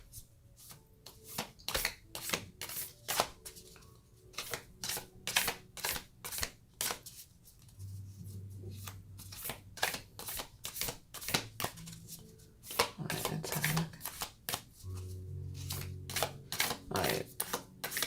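Rapid crisp riffling of a tarot card deck, repeated bursts of flicking cards close by, with a few soft low murmurs in between.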